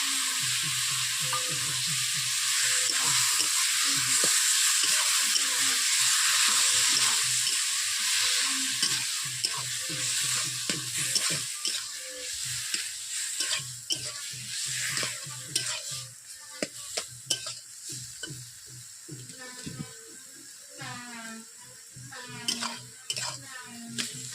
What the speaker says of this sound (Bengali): এরপর দিয়ে দিচ্ছি সবজিগুলোকে ফুটে দিচ্ছি, মাছের আঁটও দিয়ে দিচ্ছি।